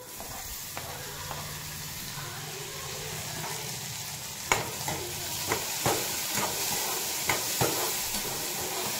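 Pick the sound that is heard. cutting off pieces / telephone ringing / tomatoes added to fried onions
tomatoes added to fried onions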